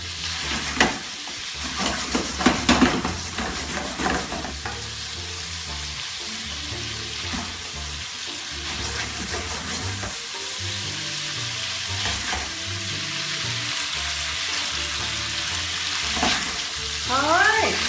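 Italian meatballs for polpette al sugo sear in a hot pan with continuous loud sizzling and crackling, broken by scraping and clattering as the pan is shaken and stirred, with a few sharper pops near the end.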